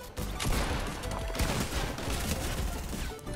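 Rapid shotgun fire in the Fortnite video game comes as a dense, loud barrage of overlapping blasts and impacts that keeps going for the whole stretch, without any speech.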